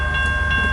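Brief, steady low rumble of a CN long-haul mixed freight train passing close by, with a faint tonal ring over the noise.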